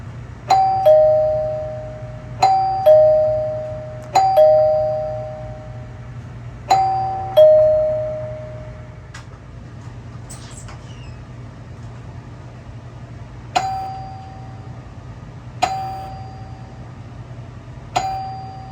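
A house doorbell chime rings out in two-tone dings, repeated several times with pauses between, over a low steady transformer hum.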